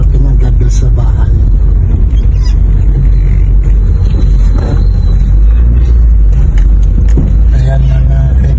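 Car driving slowly in road traffic on a narrow street slowed by bicycles, a steady loud engine and road rumble with faint clinks and passing vehicle noises, voices talking over it.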